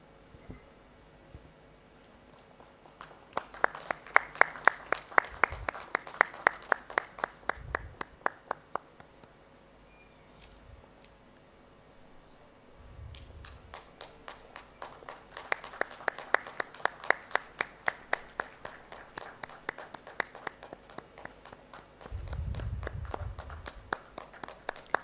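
An audience at a textile launch event in Bhubaneswar claps in two long rounds of applause, heard from a distance with sharp individual claps over a steady background murmur, broken by low thumps.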